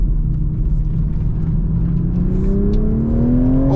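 A 2024 Toyota GR Supra with a manual gearbox: the loud engine drones steadily, then its pitch climbs smoothly toward the end in a rev blip on a downshift, heard from close inside or beside the car.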